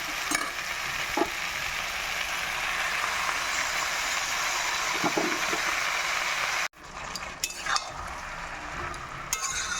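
Chopped spinach fries in spiced oil in a cooking pan, a dense continuous sizzle with occasional stirring clatter, which cuts off sharply near the end and then gives way to quieter scraping.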